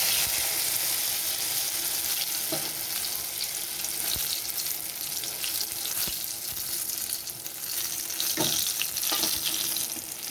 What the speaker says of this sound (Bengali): এভাবে বাকিগুলো সব ভেজে নেব।